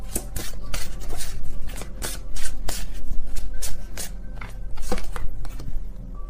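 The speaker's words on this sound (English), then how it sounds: "I don't look at the deck while I shuffle" A deck of tarot cards is shuffled by hand in a quiet room, giving close, steady papery riffles and soft slaps that repeat in quick bursts throughout.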